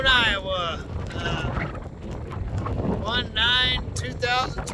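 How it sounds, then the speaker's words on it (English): Gusty wind rumbles across a snowy Walmart parking lot in Boone, Iowa, on a blizzard winter morning, a steady low roar under someone talking throughout. "A little windy."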